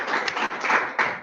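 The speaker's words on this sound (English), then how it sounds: "let's give Troy a round of applause" An audience applauds seminar speaker Troy at the close of a university quantum computing seminar, a brief burst of clapping from a modest crowd rising and falling in a couple of waves.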